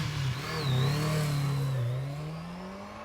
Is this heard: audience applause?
no